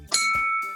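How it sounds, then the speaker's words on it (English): A bell rung once, a single bright metallic ding with a clear ringing tone that sustains briefly and fades, heard alone. "ring the bell."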